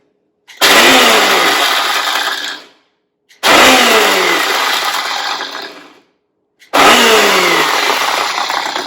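A blender pulses dried rosella (hibiscus) in three loud, separate bursts of about two seconds each, whirring harshly and cutting off sharply between pulses.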